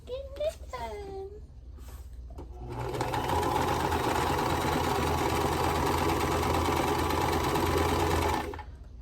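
A home sewing machine runs steadily for about six seconds, stitching quilt block pieces, after a brief bit of talk and some light handling noise at the start.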